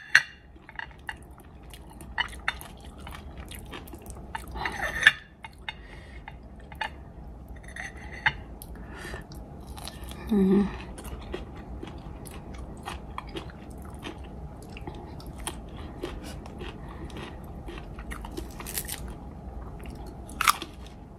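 Someone eats mango dipped in spicy Thai pla ra bong fermented fish paste, with close, crisp crunchy bites and chewing scattered irregularly over a quiet background, no talk.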